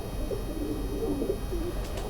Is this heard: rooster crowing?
no